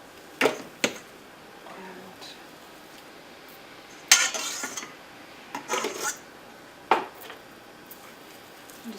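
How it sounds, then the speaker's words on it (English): A spatula scrapes almond-flavored pizza crust mixture out of a bowl in a few short, close scrapes and clinks separated by quiet pauses. "And just use your spatula to get it all out."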